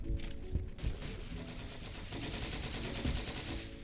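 Gunfire in a shooter video game: dense, sustained bursts of rapid automatic shots, loud and continuous, with no voices heard.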